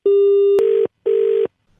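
Telephone busy tone after a call is hung up: a steady tone that cuts over into two separated repeating beeps, loud and close, with no voices.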